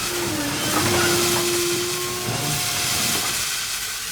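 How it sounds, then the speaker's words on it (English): Steam hissing from a steam locomotive's safety valve, a continuous broad hiss that holds steady throughout, with a faint tonal whine running under it. "The driver went to open it, when a cloud of steam erupted from the top of James"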